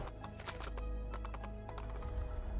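Horse hooves clip-clop in Assassin's Creed II, a run of crisp, rapid game hoofbeats near the listener over a low steady background hum, slowing and thinning toward the end.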